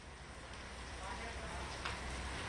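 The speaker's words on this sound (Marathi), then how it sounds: "या परिसरात पुन्हा पाऊस जो आहे तो सुरू झालाय" Steady rain falling at Nariman Point in Mumbai during Cyclone Tauktae, a continuous, even hiss of drops with low rumbling wind underneath, faint and distant-sounding throughout.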